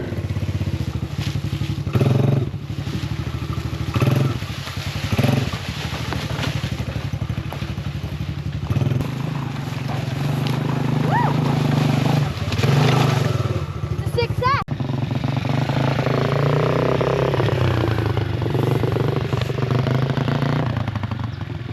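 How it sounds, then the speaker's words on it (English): A 125cc four-wheeler ATV runs steadily along a dirt trail, its engine droning continuously with clattering and thumping over bumps, while voices talk over it. "It's time to test the trail with a four-wheeler."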